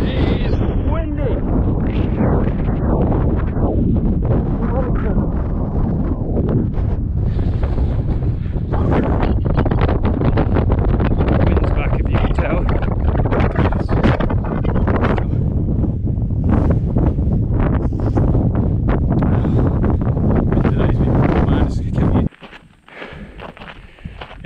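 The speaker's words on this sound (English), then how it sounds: "That is windy!" Strong gusts roar straight into the microphone during a trail run, a loud continuous buffeting that swamps everything else for over twenty seconds before cutting off abruptly.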